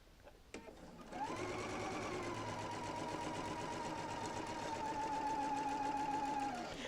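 Sewing machine stitching Double Wedding Ring quilt sections, one continuous even run of fast needle chatter after a brief click, close and steady for several seconds with no talk.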